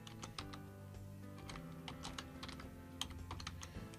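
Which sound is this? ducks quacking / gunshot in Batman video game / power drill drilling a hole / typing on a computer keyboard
typing on a computer keyboard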